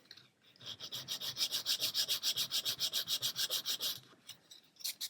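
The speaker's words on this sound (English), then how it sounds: "sand that smooth" A small part of a 1/400 scale Queen Mary 2 model is sanded smooth by hand, with a quick, steady run of close, rasping back-and-forth strokes and no voices.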